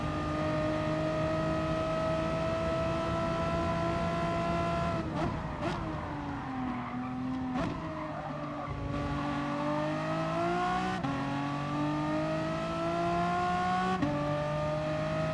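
Renault Megane Trophy race car in Gran Turismo Sport, racing at Lago Maggiore East Reverse, with a steady loud engine drone that dips and climbs through gear changes, alone without talk.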